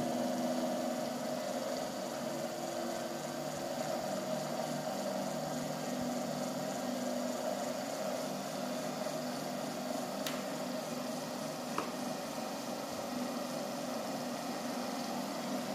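A homemade BLDC motor running on its own controller at about 7 volts, producing a steady, fairly faint electric hum and whine with a tonal drone and no speech.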